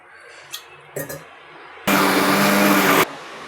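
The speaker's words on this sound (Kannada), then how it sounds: "ಇದಕ್ಕೆ ಸ್ವಲ್ಪ ನೀರು ಹಾಕಿ ಮಿಕ್ಸಿ ಹಾಕ್ತಾಯಿದ್ದೀನಿ" A loud mixer grinder whirs steadily for about a second, blending dosa batter with water, preceded by a few brief clinks and knocks, with no talking.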